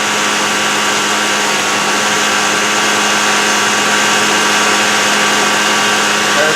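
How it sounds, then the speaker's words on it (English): A single induction motor runs alone, giving a loud, steady, close hum with a constant whine and no change in pitch throughout. "it's running on one motor"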